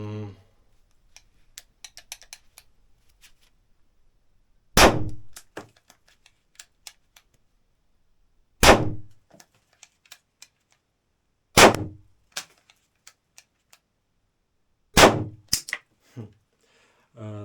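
A KUZEY 911 9mm P.A.K. starter pistol fires blanks, four sharp cracks spaced a few seconds apart, close and loud, with small metallic clicks and ticks from handling in between.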